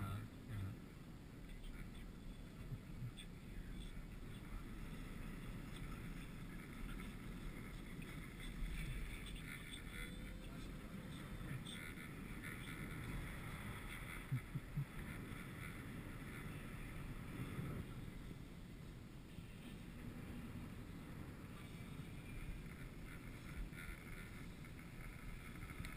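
Wind buffeting a ski chairlift, a constant low roar and microphone rumble running the whole time, fairly faint overall.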